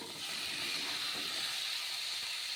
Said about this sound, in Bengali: এবার কেটে রাখা লাউগুলো দিয়ে দিচ্ছি